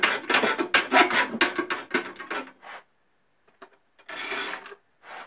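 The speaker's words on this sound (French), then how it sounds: "On va la couper à la bonne dimension. C'est une barre en fer crasse, du coup elle a du mal à tenir." A grimy iron bar is cut to length with an abrasive disc, giving a harsh rasping grind in dense bursts for about three seconds. After a near-silent gap a few faint clicks follow, then another short grinding pass.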